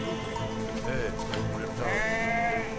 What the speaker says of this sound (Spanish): ¡Ay, que se mueven las cabras!